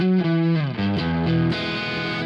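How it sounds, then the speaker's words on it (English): An electric guitar on the distortion channel of a Marshall DSL-1 tube amp plays a few loud, saturated chords in quick succession, each sustaining before the next change. "So, and it's on the distortion channel."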